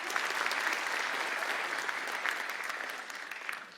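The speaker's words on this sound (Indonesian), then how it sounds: "Respect tepuk tangan lu buat beliau" Steady applause from a stand-up comedy audience, a dense wash of clapping that holds for several seconds and tapers slightly at the end.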